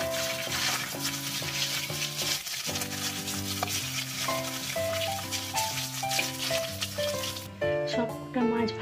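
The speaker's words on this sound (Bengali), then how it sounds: "এই তেলের মধ্যে 5 ফোড়ন, শুকনো লঙ্কা, তেজপাতা ফোড়ন দিই।" Whole spices, dried red chillies and bay leaves sizzle steadily in hot frying oil for a home-cooked fish dish, a continuous hiss running beneath loud, tonal background music throughout.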